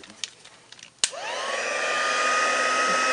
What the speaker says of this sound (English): I have got the new Stampin Up European heat gun, which is a lot quieter than the old one